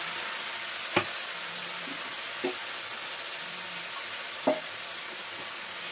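Pumpkin greens stirred in a hot pan, giving a steady soft sizzle broken by three sharp scraping clacks of the spatula, close and alone with no talk.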